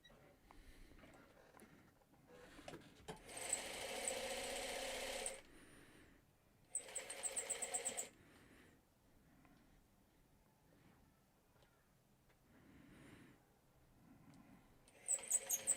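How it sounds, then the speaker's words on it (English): A sewing machine stitches quilt fabric scraps together in two bursts of fast running that each last a few seconds, with a short whir at the end and quiet pauses between. "these are just the scraps that I'm sewing together"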